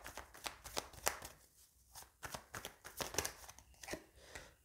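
Tarot cards shuffled and drawn by hand, a steady run of crisp riffling and slapping card sounds with short pauses, close and fairly quiet with no talk.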